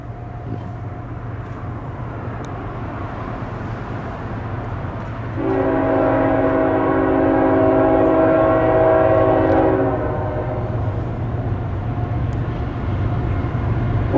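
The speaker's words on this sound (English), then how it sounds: "Here come the train" A loud train rumbles steadily nearby, and midway its horn sounds in one long sustained blast for several seconds before cutting off as the rumble continues.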